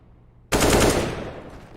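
A loud automatic burst of gunfire in Counter-Strike on the Mirage map starts abruptly after a near-silent moment, then rings out and decays over the following second.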